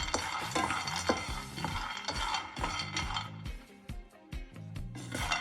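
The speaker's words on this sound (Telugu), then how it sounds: "మన గ్రౌండ్ నట్స్ కూడా రోస్ట్ అయిపోయింది." Groundnuts are roasted and stirred in a pan for nutrition laddu, with rapid rhythmic scraping and rattling clinks of the nuts against the metal. Close up, with no talk.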